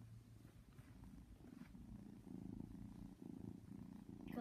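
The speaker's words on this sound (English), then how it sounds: "she's purring!" A house cat purrs steadily close up, a soft low continuous rumble that swells slightly halfway through, with faint room noise and no talking.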